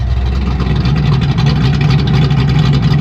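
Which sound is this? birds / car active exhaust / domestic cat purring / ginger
car active exhaust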